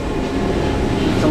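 A Moroccan train locomotive gives a steady, close, low rumble with a faint rattle, running without a break.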